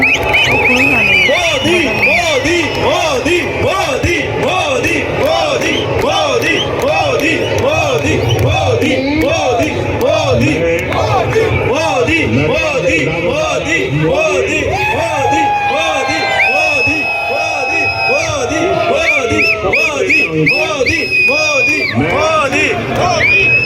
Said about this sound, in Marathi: कसला जल्लोष करतात मस्त मोदी मोदी मोदी करून